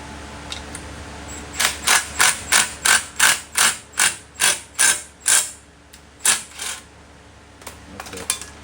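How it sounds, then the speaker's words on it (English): Air impact gun tightening a bolt while mounting a part on a B20 engine: a steady burst of about ten sharp, evenly spaced rattling hammer blows, close and loud, then a couple of short extra bursts, with no talk. "I'll get my impact gun to tighten that up"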